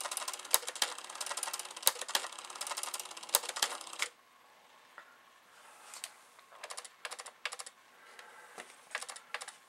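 A Commodore 64 1520 printer plotter running, with rapid clattering mechanical ticks in dense bursts, then a quieter pause and more sparse clicking, close and fairly faint.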